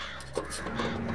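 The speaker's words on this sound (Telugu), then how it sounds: "కాకి అరుపు నాకు చాలా ఇష్టం." A crow caws once or twice, fairly close, with a low steady hum in the background and no talking.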